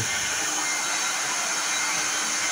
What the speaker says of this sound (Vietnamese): Mình sấy như thế này là cũng nóng lắm rồi đấy.